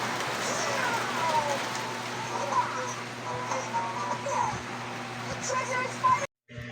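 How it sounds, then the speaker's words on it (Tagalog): Heavy rain pours steadily in a continuous dense hiss close by, with faint voices underneath, before cutting off abruptly at the end. "Medyo malakas din ang patak ang ulan."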